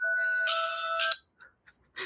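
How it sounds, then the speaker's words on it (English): A timer alarm rings in a podcast-style conversation, a bright electronic chime repeating for about a second, then stops abruptly, with brief faint talk after it. "That's my timer."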